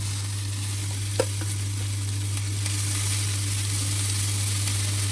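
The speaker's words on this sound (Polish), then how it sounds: "teraz na patelnię daję paprykę" Bell pepper and softened onion fry in a pan, a steady close sizzle over a constant low hum, with one sharp clink of a utensil early on and no talking.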